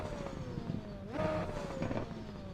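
A Super Formula race car engine in iRacing drones at steady pitch, then shifts and climbs as it revs higher; it sounds moderately loud and has no talk over it.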